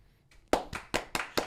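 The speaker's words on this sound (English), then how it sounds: "Why did you hesitate to clap?" A few sharp hand claps from podcast hosts, five distinct broadband bursts in a quick, slightly uneven rhythm after a brief pause, close and fairly loud with no talk over them.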